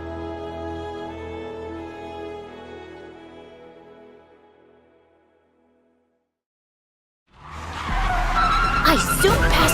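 A car speeds past as a sound effect, with the engine tone fading away before a loud burst of tires skidding and squealing close up near the end.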